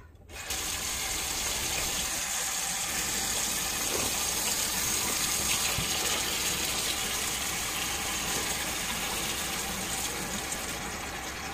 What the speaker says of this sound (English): I always run the water.